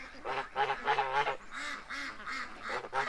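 Several ducks call while roaming outdoors at the end of the day, giving repeated honking quacks in quick overlapping bursts at moderate distance with no speech.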